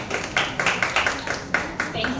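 A sparse audience at a graphic novel launch event claps in distinct, uneven bursts, the loud individual claps spaced irregularly, with faint talk underneath.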